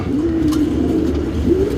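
Soft, low pigeon cooing repeats steadily in a close, continuous murmur with no voices.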